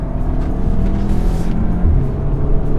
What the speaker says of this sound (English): Let's do a third gear pull right here.